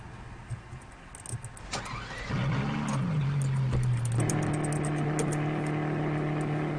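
A car engine in the Vehicle Simulator video game cranks and catches about two seconds in, then settles into a steady, close idling hum with no talking.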